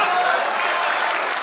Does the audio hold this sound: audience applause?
yes